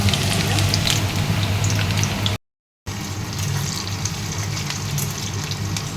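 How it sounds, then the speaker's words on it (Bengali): Onion frying in mustard oil in a wok for a monsoon dish, a steady crackling hiss close to the pan, broken by a brief silent gap partway through. "সর্ষের তেল দিয়ে দিয়েছি কড়াই পেঁয়াজটা"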